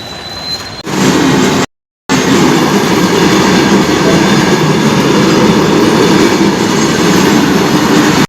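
A train rolls past a railway level crossing with loud, close, continuous rumbling and clatter of wagons on the rails. The sound breaks off briefly once, then the heavy, steady roar resumes without talk.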